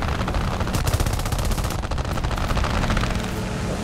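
Sustained machine-gun fire from a BF2C-1 biplane in War Thunder air realistic combat, loud, rapid and continuous bursts with brief breaks, filling the whole stretch with no talk.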